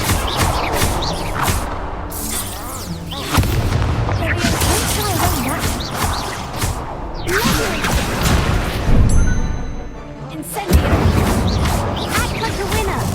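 Repeated Confringo fire spell explosions in Hogwarts Legacy, a string of loud blasts and whooshing bursts recurring every few seconds, with a voice calling out between them.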